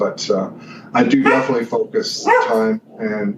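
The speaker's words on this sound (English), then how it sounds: "that was my dog" A dog barks and yips in short bursts nearby, loud and repeated, overlapping someone speaking in a casual interview setting.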